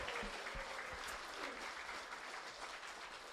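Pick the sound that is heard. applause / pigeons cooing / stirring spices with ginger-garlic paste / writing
applause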